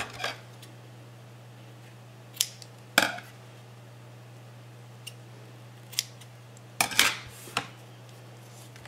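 Scissors snip through a strip of about forty centimetres, cutting it in two during craft work on a baby album, a few sharp, close clicks scattered over a steady low hum.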